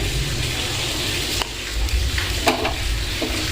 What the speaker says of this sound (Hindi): पैन हमारा गरम हो चुका है, तो इसमें हम ब्रेड को डाल देंगे